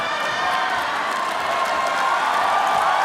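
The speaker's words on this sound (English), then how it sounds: "The crowd here, the heavy Filipino crowd in Macau, appreciating it." A heavy Filipino crowd at a ONE Championship fight in Macau, a steady, dense roar of cheering from a large arena audience, sustained throughout.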